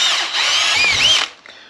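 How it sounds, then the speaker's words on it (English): A power drill with a small bit pre-drilling screw holes to mount a budget door closer, one sustained high whine lasting about a second before spinning down, loud and close. "we gotta take a small drill bit, careful, and two good screws, because I'm gonna pre-drill the holes"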